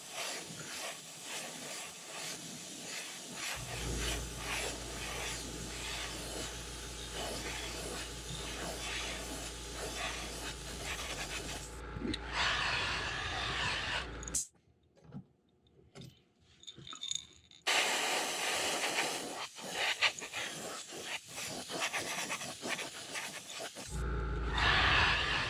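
An airbrush lays a light first coat of orange paint onto a crankbait lure as a steady broadband hiss, joined partway through by a low droning hum; the hiss breaks off briefly near the middle and then resumes up close.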